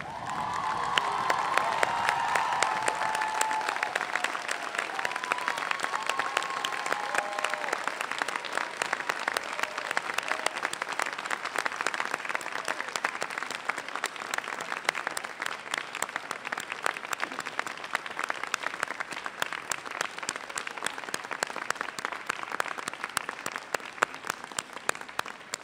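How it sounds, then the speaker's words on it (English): A graduating class at a commencement ceremony stands and applauds the families and friends in the audience. Steady, dense clapping fills a large space for the whole stretch, with faint cheers near the start. "I now ask the class of 2014 to stand and applaud your family and friends who have supported you through all of this"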